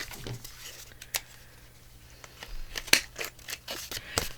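Scissors snip through fabric for a pocket belly band, a series of short crisp cuts and rustles close by, some sharper snips bunched toward the end, with a faint low hum beneath and no talking.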